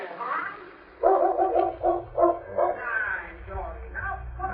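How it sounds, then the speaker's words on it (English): Dog barks in a radio drama Western, a short run of woofs and yips at moderate distance, mixed with voices and low background rumble. "you'll soon hear a dog barking"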